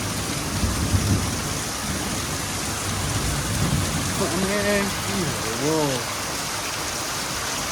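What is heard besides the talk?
heavy rain shower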